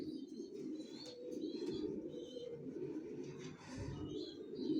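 Racer pigeons coo steadily in a continuous low, murmuring chorus, with a few faint chirps above it; there is no talk, just the flock's overlapping calls.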